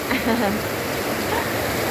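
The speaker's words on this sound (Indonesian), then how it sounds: "Seru sambil ngeliatin hujan." Rain falls steadily at a horse-racing track in Salatiga, a soft continuous hiss with faint voices murmuring in the background.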